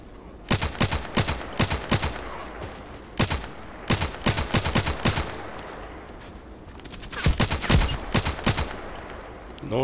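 Gunshots ring out in the online shooter Contract Wars, coming in several loud, rapid bursts separated by short pauses, close and sharp against quiet background.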